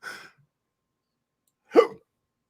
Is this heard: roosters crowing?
no